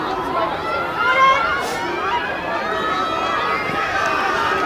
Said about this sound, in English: You can hear the crowds just supporting each team.